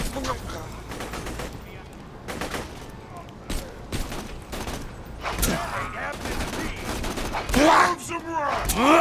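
Rapid bursts of gunfire and explosive shots from the Borderlands video game DLC, loud and dense across the whole stretch, with overlapping blasts rising toward the end and excited voices mixed in.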